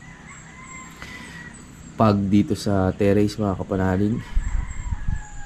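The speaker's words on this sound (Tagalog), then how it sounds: "Manok lang ang naririnig natin ngayon" A rooster crows repeatedly from near a house terrace in the Philippines, loud harmonic calls lasting a couple of seconds, followed by a brief pause. Someone speaks softly around and after the crowing.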